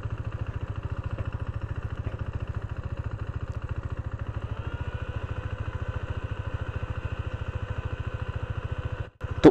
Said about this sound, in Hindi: ये देखो बाइक अभी भी चल रही है